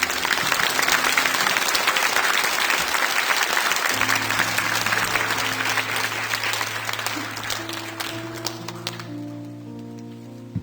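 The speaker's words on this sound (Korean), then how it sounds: "우리 이재은 자매 나올 때 큰 박수로 좀 맞아주시기 바랍니다." A church congregation gives a large room-filling round of applause to welcome a woman coming forward. The clapping is dense and sustained, then gradually thins and fades toward the end while soft organ tones rise beneath it.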